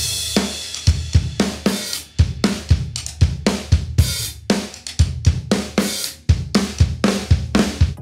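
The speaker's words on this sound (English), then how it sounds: "And just like that, Brandon was able to make drums sound like this." Drum kit recorded in a home studio, with punchy kick and snare hits and bright cymbal wash in a steady, busy groove, loud and close throughout, no voices.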